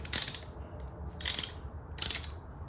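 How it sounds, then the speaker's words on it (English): A ratcheting brake piston spreader tool clicks in three separate bursts of quick, crisp ratchet teeth with short pauses between them, close and loud with no talking. "this will go in the gap and then you just ratchet"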